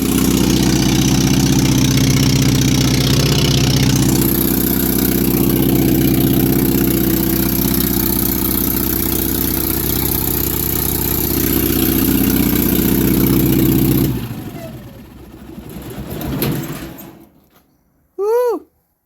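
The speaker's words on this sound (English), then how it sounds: "It's an old 5 kilowatt generator out of a fucking motorhome." An old Onan 5 kW motorhome generator, the same engine as a John Deere, idles loud and steady close by for about fourteen seconds, then cuts out, leaving brief fainter rumbles and a short chirp near the end.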